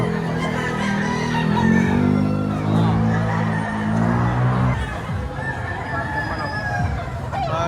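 Chickens and roosters at a busy Batangas poultry market cluck and crow amid crowd noise, with people talking nearby throughout.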